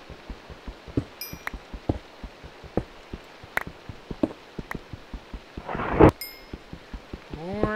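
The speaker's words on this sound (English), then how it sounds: "More thunder." A short burst of thunder in Minecraft rumbles near the end, rising over a regular series of sharp clicking game sounds.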